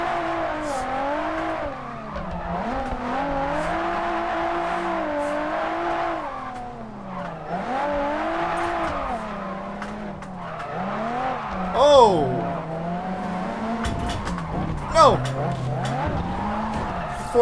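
Cars racing and drifting in an open-world Unreal Engine video game, engines revving and rising in pitch with repeated tire squeals, loud and continuous with several sharper skid bursts, while people talk over it.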